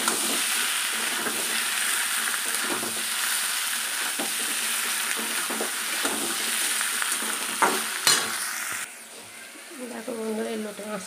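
Red amaranth greens sizzling and frying in a pan, watery hiss with steady stirring scrapes throughout, close and fairly loud, the sizzle easing near the end as the greens give up their water.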